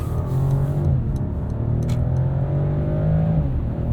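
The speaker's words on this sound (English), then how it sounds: "opening this inline 6 up a little bit. A lot of tire squeal." A 2021 Mercedes-Benz E450 4Matic sedan with an inline-six pulling under steady acceleration, a smooth rising engine drone heard from inside the cabin with faint tyre noise, no talking.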